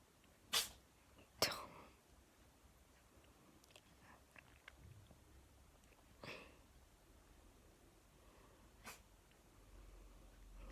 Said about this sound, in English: You done sneezing?